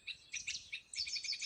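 Forest birds call in quick, repeated high chirping phrases, clear and fairly close, with a soft insect-like trill underneath and no voices.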